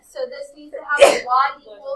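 A single short sneeze bursts out in a classroom during a math lesson, sharp and fairly close, with a teacher and students talking around it.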